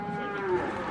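A single cow moos at a cattle breeding-stock auction in a pen, one sustained low bellow rising slightly midway, fairly close and clear, with no talk over it.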